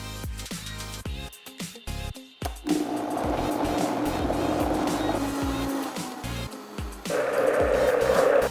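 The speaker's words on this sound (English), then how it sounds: "we're just gonna blend it in the blender" A blender whirs up to speed, blending lobster nacho sauce after a few knocks and clatters, then runs as a steady close drone that surges louder near the end.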